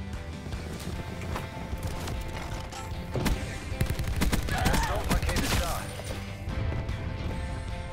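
Peacekeeper weapon fire in Call of Duty Black Ops 4: rapid sharp reports spaced through a busy, noisy gameplay mix, clustered more densely in the middle, with mechanical clatter around them.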